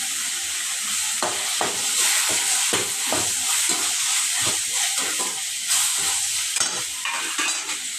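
Curry leaves fry and get stirred in a pan of mutton thokku, giving a loud steady sizzle with repeated scraping stir strokes, close up and with no voices.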